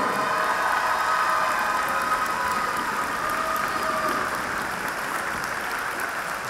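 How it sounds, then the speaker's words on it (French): A dense, continuous roar of audience applause at a country dance gathering in Issoudun, cheering on young child dancers, loud and sustained and slowly easing toward the end. "Un tonnerre d'applaudissements pour ces petits bouts qui sont merveilleux."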